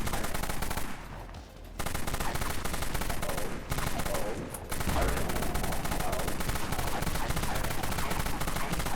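Dusk AR assault rifle firing in Dead Frontier, sustained fast automatic bursts, loud and continuous, broken by a couple of brief pauses before resuming.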